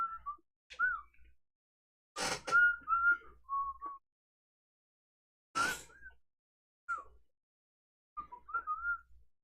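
A person whistles a melody loudly in short bursts of bright tones with pauses between phrases, near and alone, as players sit around a Viticulture board game.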